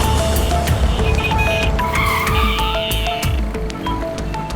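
A car brakes to a stop with tires squealing in sharp, rising screeches over engine noise and road rumble, set in a police drama scene.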